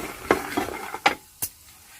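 Groundnuts roasting in a little oil in a pan are stirred with a utensil, giving a few sharp scraping clicks spaced across two seconds over a faint sizzle.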